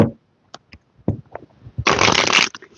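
Tarot cards are handled and shuffled up close: a few soft taps and flicks, then a dense riffling burst lasting about half a second before a couple of quieter clicks.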